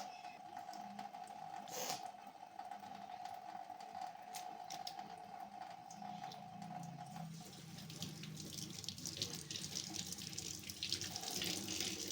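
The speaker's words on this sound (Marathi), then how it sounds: "आधी मी पाणी काढतोय" Water runs steadily from a kitchen tap into a vessel while a crab curry is being prepared, a continuous close hiss and splash whose tone shifts partway through as the flow changes or the container fills.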